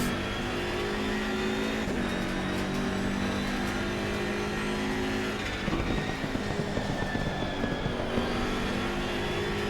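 A BMW M6 GT3 race car in Assetto Corsa Competizione at Zolder runs with a steady, loud engine drone throughout, with shifting revs and a brief dip near two seconds, plus rougher textured bursts later on.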